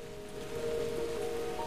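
Void rain falls in the video game Deemo II as a steady, soft patter under a faint sustained musical hum, with no breaks across the moment.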